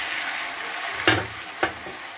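Chopped tomatoes fry in a pan for an offal curry, a steady close sizzle broken by two sharp stirring scrapes near the end.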